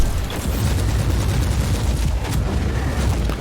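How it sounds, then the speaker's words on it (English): A grenade blast in the Warhammer 40,000: Inquisitor - Martyr action game, heard as a loud, sustained rumbling boom with dense low-end roar and crackling debris that fills the whole moment without pause. "Grenade out."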